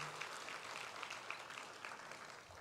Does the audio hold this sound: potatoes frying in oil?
no